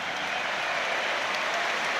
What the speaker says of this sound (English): they are being applauded, a standing ovation for them